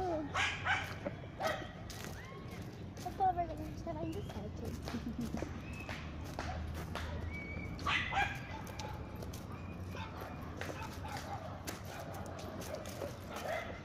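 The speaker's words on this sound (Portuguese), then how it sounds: "Olha os cachorros." Dogs bark now and then amid a busy outdoor crowd outside a museum, with people talking throughout and occasional hoof-like clatter in the background.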